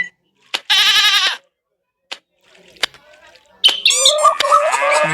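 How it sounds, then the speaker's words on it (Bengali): A goat bleats in the Meena video game with a loud, wavering cry, followed after a pause by a longer, rougher bleat that trails off. A few short clicks and faint noises fall in between. "ছাগলটা ভাই আমাদের সাথেই কেন ঘুরে ভাই"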